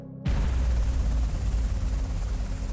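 HS-60 Seahawk helicopter lifting off from the aircraft carrier Nimitz, a sudden loud, dense roar of rotor wash and turbine that starts abruptly and stays heavy and close throughout.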